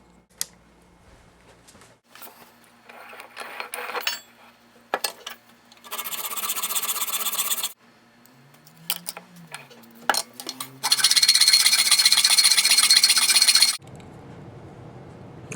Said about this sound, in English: Wow, I need to file that.